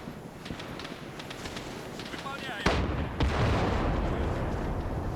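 A shot-up vehicle's ammunition cooks off in a military video game, a sudden loud bang followed by a second blast and a crackling rumble, over busy battle noise and voices on radio chatter.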